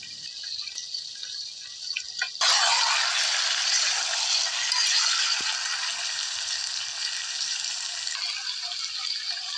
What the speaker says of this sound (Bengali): আমরা চিকেনটাকে এবার একটু নাড়া দিয়ে দেবো।